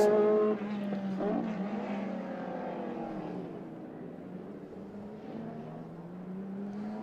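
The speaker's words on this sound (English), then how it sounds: "So David Kennedy now and Alex Dunne in the two Le Mans cars from the Group C days." Group C-era Le Mans race cars on a demonstration lap of a circuit's international loop drone past as a strong, sustained engine note that shifts in pitch as they pass. The sound is fairly distant and there is no talk.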